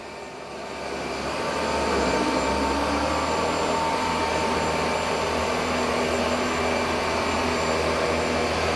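Dyson 360 Vis Nav robot vacuum cleaning a room, its motor spinning up over the first couple of seconds into a loud, steady whirring drone that holds constant, with no voices.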